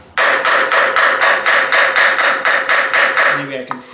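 A hammer taps on the front axle of a Ford 800 tractor with a burred part: about a dozen quick, even, loud metallic strikes in a rapid steady rhythm, then stopping.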